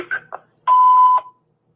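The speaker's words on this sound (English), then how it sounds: "Please leave your name and number after the beep." After a few faint clicks, a single clear electronic voicemail beep sounds for about half a second, steady tone, then silence.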